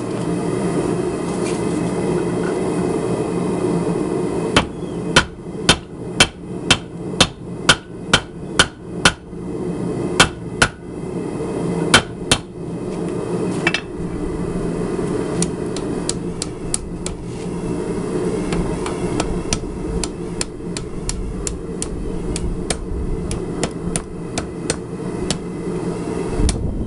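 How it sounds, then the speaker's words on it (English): Hammer blows hot cutting forged cable steel for a skinner knife, a fast series of sharp ringing strikes that thin out, then a few scattered blows over a steady mechanical hum and rumble. "I'm going to hot cut it in the center and fold it up."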